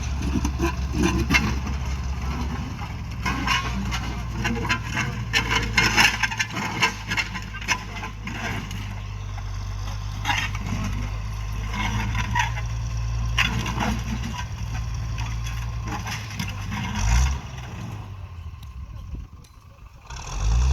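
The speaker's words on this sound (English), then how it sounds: "Tractor tilling the soil for me." A tractor tilling soil for planting, its low engine drone running steadily and close through most of the stretch with scraping, crunching bursts over it, before dropping away near the end.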